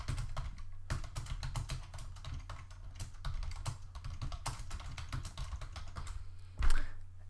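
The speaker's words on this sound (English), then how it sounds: "I'm going to go ahead and type in some text." Typing text on a computer keyboard: a dense, steady run of quick close key clicks with a few heavier taps, one louder thump near the end.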